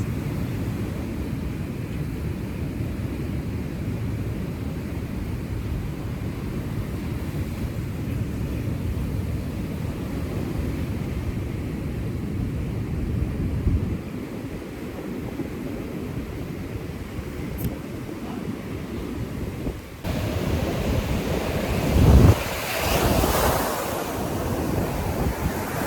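Ocean waves wash onto a beach at Bluewater Island, a continuous close surf roar with wind buffeting the microphone and a louder swell of breaking water near the end, with no voices.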